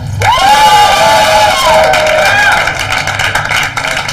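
A loud crowd cheers and whoops continuously, with shouts rising over a dense wall of applause, close and energetic.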